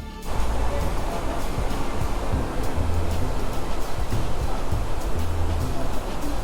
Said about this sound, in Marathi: फार चिंचोळ्या अशा ओढ्यातून पाणी तिथून पुढं वाहत आहे